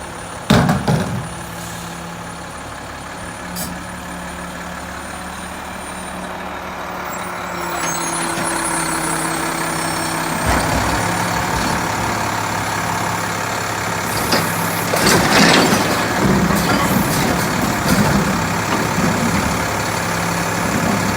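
A Mack LEU recycling truck runs with a steady heavy diesel drone for about twenty seconds, joined by air brake hisses and a high repeating reverse alarm beeping over the engine noise.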